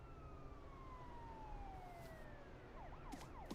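Police car sirens in a zombie survival video game, wailing steadily from a distance as they draw nearer, with sweeping tones gliding downward and a brief burst of chirping warbles near the end, over a constant low background rumble.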